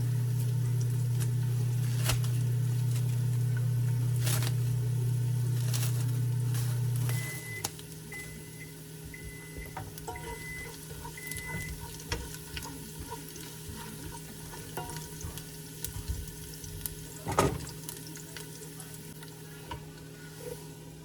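Chopped onion dropped into hot oil with browned garlic while cooking palabok, giving a steady sizzle and scattered stirring clicks and taps nearby, with no talk.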